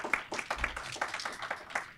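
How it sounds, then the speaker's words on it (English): An audience at a panel event claps to welcome a speaker, giving brief, fairly faint, distant-sounding applause from a modest crowd. "Give him a round of applause"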